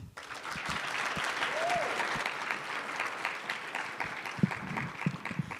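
An audience at a mathematics conference keynote claps steadily to welcome the speaker, a dense wash of applause that holds evenly for several seconds and thins slightly toward the end.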